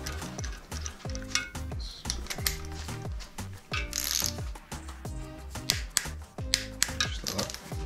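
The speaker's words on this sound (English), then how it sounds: "And then you will torque these to 17mm as well." A torque wrench ratchets as oil squirter bolts are tightened during an engine build with forged internals, giving rapid, close mechanical clicking in repeated bursts with brief pauses between strokes.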